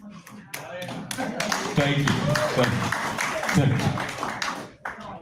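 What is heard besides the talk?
stand-up comedy audience applauding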